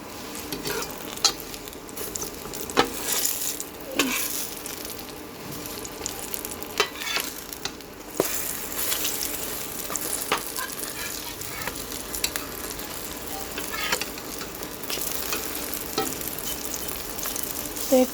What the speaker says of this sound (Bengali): বেগুন ভাজা অপর পিঠটাও হয়ে গেছে